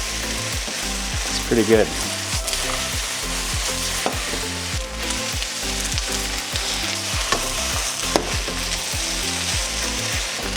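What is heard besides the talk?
marinated plant-based protein and onion frying in pan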